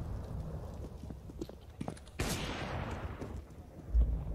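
Bursts of gunfire in a Counter-Strike: Global Offensive match between Furia and Cloud9, sharp cracks over a busy game background, with a commentator's voice underneath.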